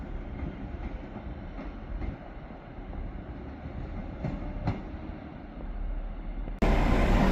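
Passenger train 2L80 running from Carlisle to Dumfries, a steady rumbling rail roll with faint clicking wheel joints, then a sudden louder, brighter burst near the end.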